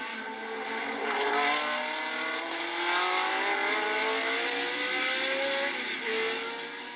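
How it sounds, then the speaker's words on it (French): Race cars, including a Ford Sauber, run at the 1982 Le Mans 24 Hours, their engines droning loudly and steadily as cars climb in pitch while accelerating past, with no speech. "Ici, la Ford Sauber de Stuck et de VM Peugeot"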